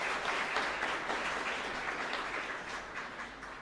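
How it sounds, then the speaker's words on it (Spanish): A church congregation applauds in a dense, continuous patter of clapping that stays fairly even and slightly distant, fading a little toward the end. "un fuerte aplauso para el Padre Cabañas."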